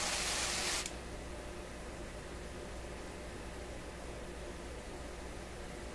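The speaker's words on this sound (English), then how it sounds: "now I'm just going to do a general haphazard spray" An aerosol can hisses briefly onto the coils and circuitry inside an old Electrohome Chippendale console, a short close burst of spray that cuts off, leaving a faint steady background hiss.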